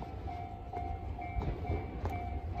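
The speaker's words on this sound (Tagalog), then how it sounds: "Ayan, yan ang train." A train passing in a residential area of Japan, a steady low rumble with faint periodic clicks of wheels over rail joints, moderately distant and fairly quiet, with no talk.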